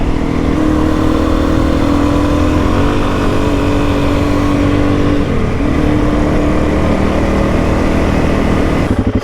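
A motorcycle rides through the bush on a cold day, its engine droning loud and close throughout with gear changes and shifting pitch as it pushes along a track.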